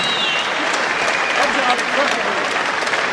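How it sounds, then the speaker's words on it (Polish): A crowd at a fight event applauds both fighters in a loud, dense, continuous roar of clapping, while an announcer's voice rises over it. "Jeszcze raz głośne brawa dla obydwu zawodników"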